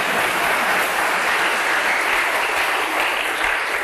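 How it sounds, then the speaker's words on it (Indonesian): A church congregation applauds during a sermon, a dense, steady wash of many hands clapping at once, loud and continuous from start to finish with no talk over it. "Beri tepuk tangan dong."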